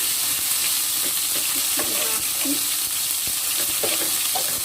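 Sambal with tomatoes fries in a pan with a continuous loud sizzle, and a spoon stirs it in occasional soft scrapes.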